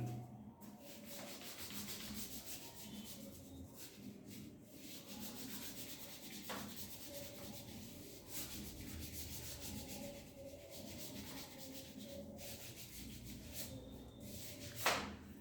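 Writing being rubbed off a board during an accounting lesson, a steady soft scrubbing and rasping that continues for about fifteen seconds with a few faint knocks and no talk.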